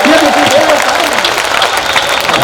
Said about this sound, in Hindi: हाथ उठा के एक बार ताली बजा के बताइए कैसा लग रहा है।